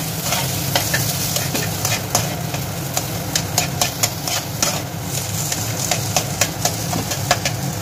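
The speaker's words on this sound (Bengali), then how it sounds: "ধনে পাতাটা দিয়ে ভালোভাবে নেড়ে নেব।" Chopped coriander leaves being stirred into a mashed potato vada pav filling in a hot pan, a steady scraping stir with repeated sharp clicks of the spoon against the pan over a low frying sizzle.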